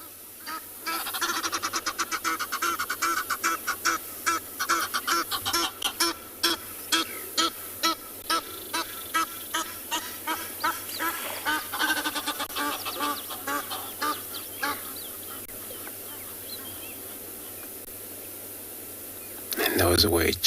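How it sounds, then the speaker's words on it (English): Egyptian geese calling on a South African safari, a long run of rapid, harsh honking calls in steady bursts, fairly close and loud, with a voice talking over part of it. "And those were Egyptian geese,"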